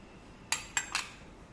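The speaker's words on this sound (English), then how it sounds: "The inner catch tray is to be placed inside with the curve profiling blade at the bottom." A metal catch tray for a powder flow tester is set in place, giving three quick light metallic clinks in close succession against a quiet background.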